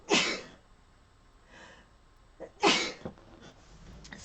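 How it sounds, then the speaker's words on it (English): Two sharp sneezes close to the mic, a couple of seconds apart, with soft breaths in between. "I gotta sneeze"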